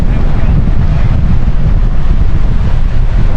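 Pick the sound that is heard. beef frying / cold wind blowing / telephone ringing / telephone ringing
cold wind blowing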